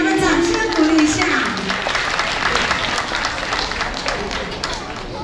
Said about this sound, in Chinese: 再给他们掌声鼓励一下